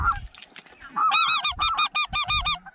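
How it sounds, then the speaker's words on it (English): A single wild goose honks repeatedly during a duck and goose hunt, giving a rapid run of loud, close, rhythmic calls after a few fainter ones, with no talk over it. "Single goose. Yeah, he comes in."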